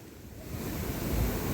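Sea surf rolls in as a continuous wash of broad noise, loud and close, mixed with gusting wind across the microphone, no voices.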